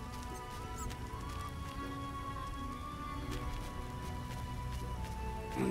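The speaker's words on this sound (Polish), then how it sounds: "No i rozpadało się" Steady rain falls outdoors in the Witcher game world, a soft continuous patter with scattered drops, quiet and unbroken, with faint background tones underneath.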